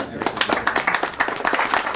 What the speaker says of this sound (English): I believe your knitting deserves a great round of applause